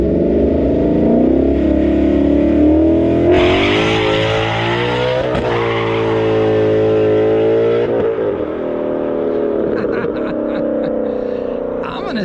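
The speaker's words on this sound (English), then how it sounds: "Slip the clutch, Mike." A Ford Mustang launching on a prepped drag strip surface on cold tires, the engine revving hard and loud throughout, pitch climbing as it pulls away with tire noise, while voices talk over it.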